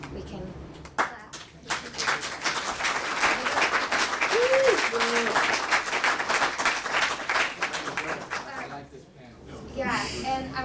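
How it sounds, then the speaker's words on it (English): An audience at a college medical careers panel applauds in a sustained, dense round of clapping that builds and then fades, with voices talking over it near the start and end. "If we can clap."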